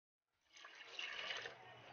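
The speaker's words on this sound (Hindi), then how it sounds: "अब मैं इसमें 2 ग्लास पानी डाल दूंगी" Water poured from a glass into a cooking pot of seasoned mutton for a pressure cooker, a soft splashing pour that starts after a brief silence and runs on steadily, fairly faint and close.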